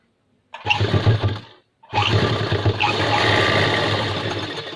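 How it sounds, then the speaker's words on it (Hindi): A sewing machine stitches a triangle on a trouser pocket, running in two bursts: a short whirring run, a brief pause, then a longer steady loud motor hum with rapid needle clatter, close up. "इस तरीके से हमने ट्रायंगल जो है ऊपर तक सिल लेना है फ्रेंड ऐसे।"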